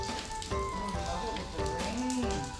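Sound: rain falling at a temple in Bhaktapur, Nepal

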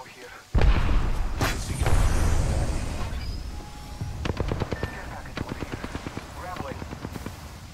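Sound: gunfire in the video game Apex Legends

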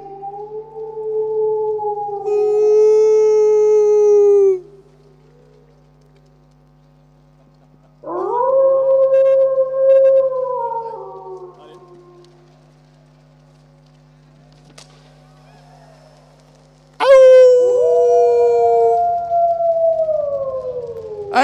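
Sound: crowd imitating a wolf howl

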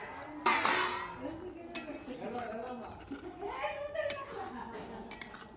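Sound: lid placed over a cooking pot

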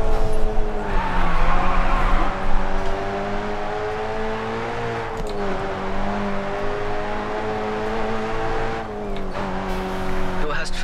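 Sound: tires squealing while drifting a Subaru in video game Grid 2

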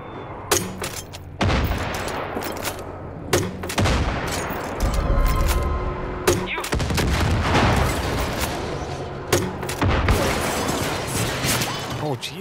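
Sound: gunfire in the video game Far Cry 5

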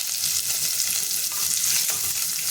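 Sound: sautéing cumin, chopped chilies, garlic and onion in pan

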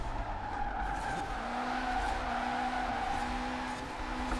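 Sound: car tires skidding while drifting in video game Forza Horizon 4

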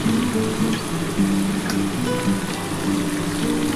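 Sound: spice water poured into simmering mutton curry

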